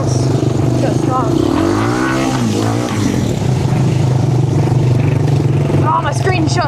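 A four-wheeler ATV engine revs hard and steadily while riding, with a deep, loud, continuous drone and pitch sweeps as it accelerates through the gears, with a person talking over it.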